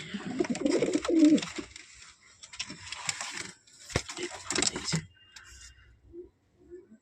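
Pet pigeons coo softly in a home loft, with low throaty calls mixed with rustling, wing flutters and small knocks, close but faint and broken by pauses.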